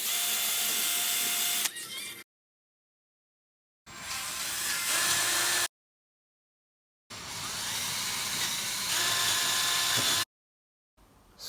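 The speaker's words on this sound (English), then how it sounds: "Drilling for the pillars." Three bursts of a high-pitched whining drill boring into wood, each running a couple of seconds, separated by silence; close and steady, with no voices.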